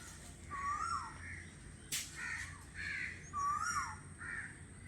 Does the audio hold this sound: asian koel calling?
yes